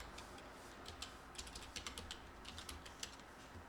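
Keys tapped on a computer keyboard, a run of quick irregular clicks at close range, faint and alone with no voices.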